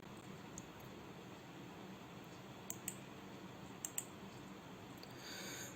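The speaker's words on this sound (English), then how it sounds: "Just click on that." Faint computer mouse clicks come in two quick pairs against a soft background hiss while someone works in Power BI software.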